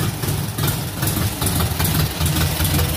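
A homemade car's 1300 engine idles close by, a loud steady low rumble with a slightly uneven, knocking pulse and no voices over it.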